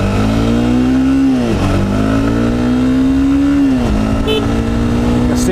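A 2015 Honda CBR 300R motorcycle accelerates hard onto a highway, its engine whine rising steadily through two upshifts, loud and close with wind rush underneath.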